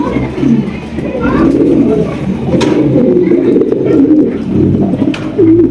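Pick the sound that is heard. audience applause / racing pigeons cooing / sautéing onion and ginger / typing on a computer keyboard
racing pigeons cooing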